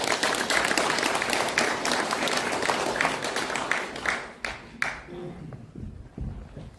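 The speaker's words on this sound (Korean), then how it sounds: "다시 한번 환영의 박수 보내주시기 바라겠습니다." Audience applause at an academic seminar, a steady wash of many hands clapping that thins and tapers off into scattered claps near the end.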